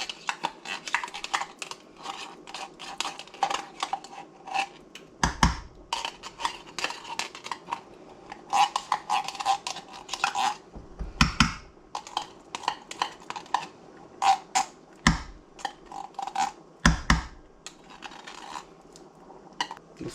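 A spoon scrapes and clanks against a pot of homemade chili with fire-roasted diced tomatoes and tomato paste, giving irregular bursts of stirring clatter with a few deeper knocks, close and moderately loud, with no talking.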